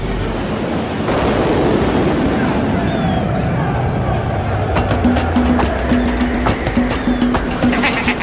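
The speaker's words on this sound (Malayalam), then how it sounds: "കടലിൽ ശക്തമായ കാറ്റടിച്ചു." Strong wind and surging sea waves, a loud continuous roar with low rumbling swells, joined later by rhythmic creaking or knocking like a boat at sea.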